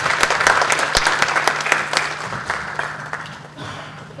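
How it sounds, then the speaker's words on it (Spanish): A room full of people clapping steadily, a dense crackle of applause that holds strong and begins to thin toward the end. "Por favor, un aplauso."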